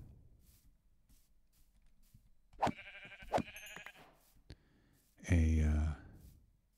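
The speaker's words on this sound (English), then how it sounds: "Here's some more sheep." Minecraft sheep bleating in short wavering calls, two quick bleats followed by a louder, longer one, with quiet background and light rustles between.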